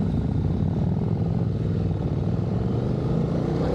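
Steady motorcycle engine drone while riding along Tasmanian roads, a continuous even hum with wind rush and no breaks or talk.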